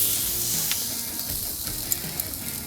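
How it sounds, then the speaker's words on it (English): Chuck roast going onto a grill gives a steady, close sizzle and hiss, with a few small clicks and pops and no one talking. "Let's get it on the grill."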